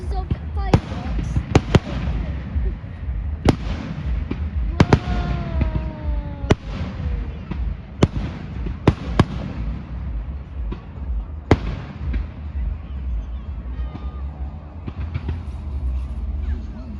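Fireworks at the St Albans fireworks spectacular pop and bang repeatedly at irregular intervals, with sharp cracks and occasional whistles over steady crowd noise and people talking nearby.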